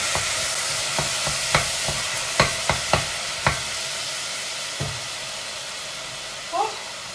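Peppers and carrot fry in a pan with a constant soft sizzle, punctuated by several sharp clinks and scrapes from stirring, and a brief voice near the end.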